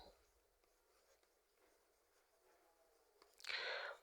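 Faint scratching of a pen or pencil writing numbers by hand, soft and close in a quiet room, ending in a louder brush-like rub.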